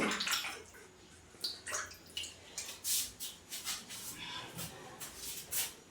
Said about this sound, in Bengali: আর হাতটা একটু ধুয়ে নেব।